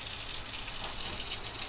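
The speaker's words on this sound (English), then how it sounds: "So I've got my water pump turned on. I'm going to run the cold until only air comes out." Water gushes from the cold tap of a van faucet with the onboard water pump running, a steady, close hiss of flowing water throughout.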